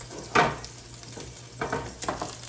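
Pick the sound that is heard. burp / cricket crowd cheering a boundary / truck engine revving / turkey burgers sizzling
turkey burgers sizzling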